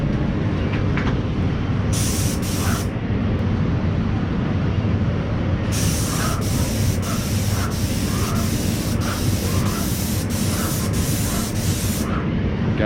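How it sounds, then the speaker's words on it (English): A Graco airless paint sprayer coating MDF furniture in a workshop, with a loud steady hissing spray running throughout and short bursts of the gun triggering on and off. "That's how quick it is with the airless sprayer."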